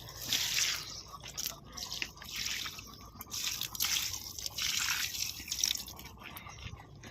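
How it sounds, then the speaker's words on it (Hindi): Water is poured in small amounts onto potted flower plants in the early morning, making faint, uneven splashing and trickling in several short bursts with no talk. "सब में थोड़ा थोड़ा पानी ले डाल देवत हूँ।"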